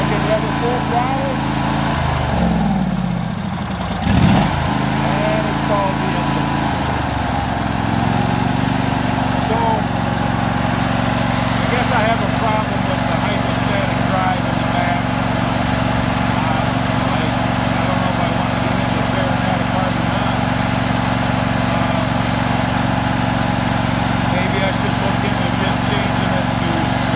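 A lawn tractor engine runs loud and close at full throttle for a long stretch, dipping and sputtering briefly near the start before holding a steady, buzzing drone, with someone speaking over it.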